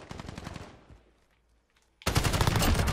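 Automatic assault rifle fire in Call of Duty Modern Warfare: a rapid burst that trails off, a short near-silent gap, then a second louder, sustained burst.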